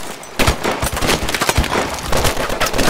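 Rapid automatic gunfire from Call of Duty: Advanced Warfare rattles in dense, loud bursts after a brief quieter opening and keeps up a fast, uneven stream of shots to the end.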